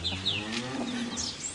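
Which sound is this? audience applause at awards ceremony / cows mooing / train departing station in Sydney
cows mooing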